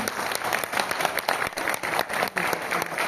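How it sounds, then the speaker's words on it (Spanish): An audience at a formal legal lecture applauds a judge with sustained group clapping, individual claps standing out in an uneven rhythm, moderately loud and close. "Una vez más, por favor, fuerte voto de aplausos, por favor."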